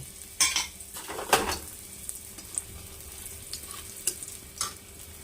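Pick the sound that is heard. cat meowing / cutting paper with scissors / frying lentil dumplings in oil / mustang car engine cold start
frying lentil dumplings in oil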